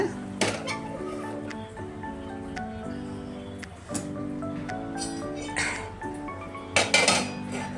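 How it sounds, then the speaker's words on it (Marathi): An iron tawa griddle set down on a home kitchen stove gives a few metallic clanks and clinks, with a sharp knock near the start and a louder clatter near the end over a steady low hum. "हा लोखंडी तवा ठेवलाय मी"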